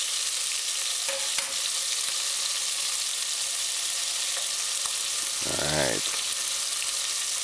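Chicken pieces fry in a pan on a stove set to high, giving a steady, close sizzling hiss throughout, with a brief spoken word and a clink partway through.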